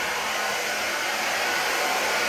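A Revlon hair dryer drying long curly hair blows with a constant, loud, breathy whoosh close to the microphone, steady from start to finish with no voices.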